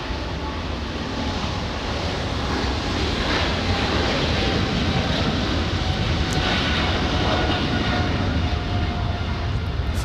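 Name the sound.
Air France Boeing 777 jet taking off with full thrust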